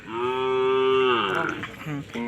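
A single long, loud moo from a cow at a cattle market in Tamil Nadu, close by, with a brief lower call trailing after.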